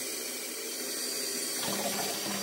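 Hot water running steadily from a tap into a container while making coffee ink, a continuous close hiss with a slight change in tone partway through, no talking.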